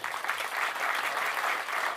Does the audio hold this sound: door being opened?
no